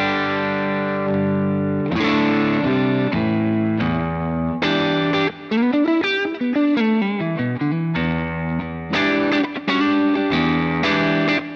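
An electric guitar plays chords and single-note runs through a Jam Pedals Rattler distortion pedal in low gain mode, mild and crunchy, sustained and fairly loud, with brief gaps between phrases.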